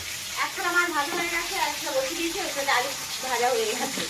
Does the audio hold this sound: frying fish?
yes